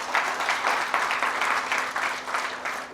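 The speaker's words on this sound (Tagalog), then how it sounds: "Ay, tuloy niyo yung palakpak na yan." A church congregation claps during a Filipino sermon, a rhythmic, slightly uneven pattern of group clapping in pulses about twice a second, moderately loud with a faint steady hum underneath.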